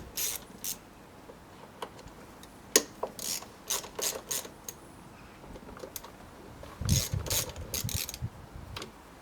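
A ratchet wrench undoing screws on the throttle body of a MINI R50, quick bursts of clicking pawl ratchets in several separate runs with pauses between, close and crisp, no speech.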